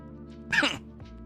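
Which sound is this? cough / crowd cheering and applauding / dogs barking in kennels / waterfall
cough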